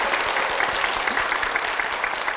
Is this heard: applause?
yes